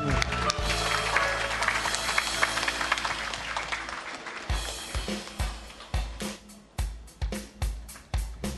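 A Korean-language Sunday congregation claps in thanks, a dense burst of applause lasting about four seconds. It then thins out into heavy rhythmic beats of worship music.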